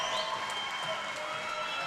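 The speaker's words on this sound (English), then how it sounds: "And give the fans a round of applause," Basketball fans at a college men's home game applauding at center court, a brief burst of dense, distant clapping and crowd noise.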